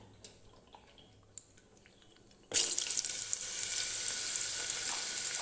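Cut pumpkin pieces drop into hot oil in a pan for a vegetarian Bengali dish, setting off a sudden loud burst of sizzling that settles into a steady, close frying hiss after a few quiet clicks.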